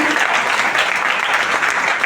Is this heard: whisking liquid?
no